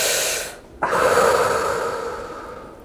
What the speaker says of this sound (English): Mindful breathing?